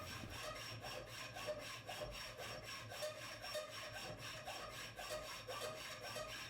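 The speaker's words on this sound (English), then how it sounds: "I'll begin by cutting the threaded portions off with a hacksaw." Hacksaw cutting through threaded galvanized pipe, quiet rhythmic back-and-forth strokes at a steady pace, heard close and alone.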